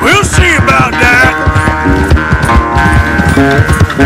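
A horse gallops in Red Dead Redemption 2, its hoofbeats loud and steady under game music and sound effects, running for the full few seconds.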